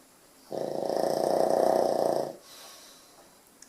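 Someone snoring nearby, one long, loud, rasping inhaled snore lasting nearly two seconds, followed by a quieter exhale and quiet room.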